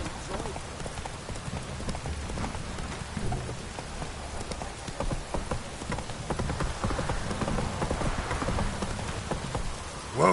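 Hooves of Roach, a horse in the game The Witcher 3, clip-clopping in a steady rhythm over a constant rain-like wash of ambience, with a voice talking over parts of it.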